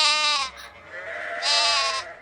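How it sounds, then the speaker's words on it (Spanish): A sheep bleats twice, loud and close, with two drawn-out wavering cries separated by a short pause. "¿Cómo hace la oveja, chicos?"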